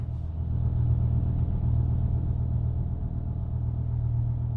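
A BMW E60 M5 engine warms up while driving at low, lazy revs in its first transmission setting, a steady deep rumble heard from inside the car with no talking.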